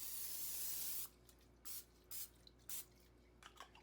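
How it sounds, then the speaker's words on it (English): Olive oil cooking spray hissing onto chicken for barbecue, one sustained close spray burst of about a second, followed by three short quick puffs in a row, otherwise quiet. "I'm going to go ahead and spray with some of my olive oil spray."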